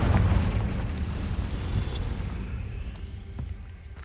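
Fiery spell explosion in the Hogwarts Legacy video game, a single heavy booming blast at the start that rumbles and slowly fades away.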